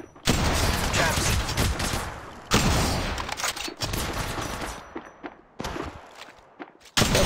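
Gunfire in the shooter game Apex Legends, loud bursts of rapid automatic fire in several volleys with brief gaps, close and harsh, mixed with game mechanism clatter.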